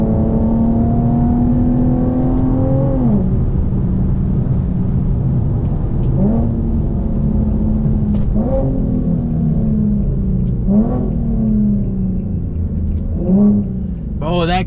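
Infiniti G37 coupe with a full titanium Tomei exhaust, loud and close, revving and dropping pitch through repeated downshifts with sharp throttle blips every couple of seconds, steady engine roar throughout.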